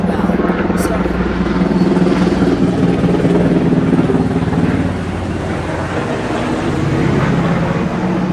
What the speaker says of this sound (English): we do get the helicopters